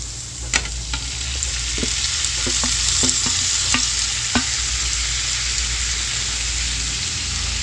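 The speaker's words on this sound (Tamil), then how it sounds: "இந்த தக்காளி வந்து நல்லா மசியணும், அந்த அளவுக்கு இது வதங்கணும்." Bitter gourd and tomato sautéing in a pan, a steady close sizzle broken by scattered scraping and stirring clicks from a spatula, with no talking.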